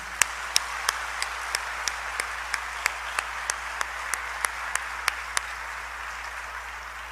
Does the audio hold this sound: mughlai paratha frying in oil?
no